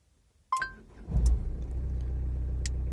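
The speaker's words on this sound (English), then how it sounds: "Start the engine." A car engine starts after a brief chime, cranking into a steady low idle rumble that holds close by, with no talk.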